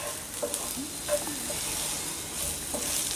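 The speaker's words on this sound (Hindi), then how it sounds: "थोड़ी देर दो तीन मिनट इसको तेज़ फ्लेम पे फ्राई कर लेंगे" Green beans and potatoes frying over a high flame, a steady crackling sizzle with a few light stirring scrapes, close and clear with no speech.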